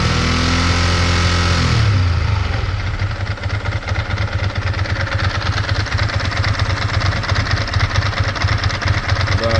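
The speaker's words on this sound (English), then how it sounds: "Seems like it's even on fast idle." A 2002 Ducati ST4s motorcycle engine on fast idle, a loud, steady, close rumbling beat with a rough clattering texture, after a brief tonal hum at the start fades out.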